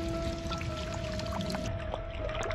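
Water pours steadily from a fountain under an old beech tree, a soft continuous splashing stream heard up close and fairly quiet, with a faint steady tone running beneath it.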